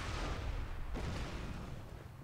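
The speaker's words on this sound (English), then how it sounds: "There's a big explosion." A big in-game explosion in the video game Borderlands 2: a heavy, booming roar with a deep low rumble that fills the whole moment, with a sharper burst about a second in before it slowly fades.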